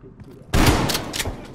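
A gun in the Call of Duty Cold War video game fires one loud, sharp blast followed by a couple of quick rattling reports, sudden after near silence.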